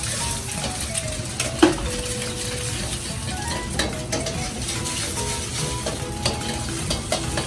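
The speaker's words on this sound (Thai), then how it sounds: "ชฟกำลังทำผัดซีอิ๊วกับผัดบะหมี่เหลืองนะ" Continuous sizzling and frying as soy sauce noodles and yellow egg noodles are stir-fried in a wok at a Thai street food stall, with steady stirring scrapes and occasional utensil clanks, no voices.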